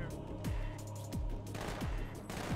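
Magnum pistol gunfire in the Halo 2 video game: a series of loud, punchy shots in quick succession, each with a falling boom, over steady game background noise.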